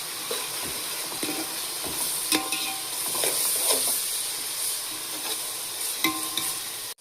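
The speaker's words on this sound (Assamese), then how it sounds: "নহৰু আদা অকণমান লৰাই লওঁ, আমি আদা নহৰুখিনি মিলাই লওঁ" Garlic and ginger stir-fried in a hot pan give a steady, close sizzle broken by repeated scraping stirs of a utensil, with no voices.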